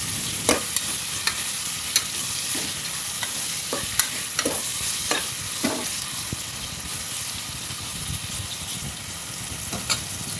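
Thinly sliced onions fry in a pan for egg biryani, with a steady close sizzle and scattered sharp scrapes and clicks of a spoon stirring them, no voices.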